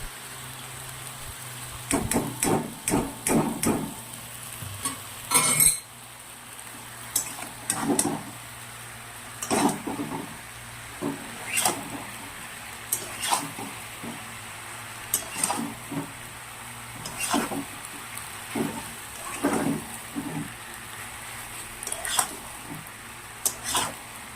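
Boiled Malabar spinach (pui shak) frying in a pan, a soft continuous sizzle broken by repeated sharp scrapes and clacks of a spatula stirring against the metal, close by and irregular.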